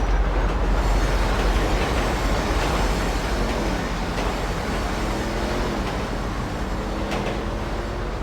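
A train in the video game GTA V runs along the rails with a loud, continuous low rumble and faint tonal squealing, with no voices.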